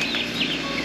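A young turkey chirping on a farm, a quick series of thin, high peeps up close and fairly loud, set against a steady background hiss.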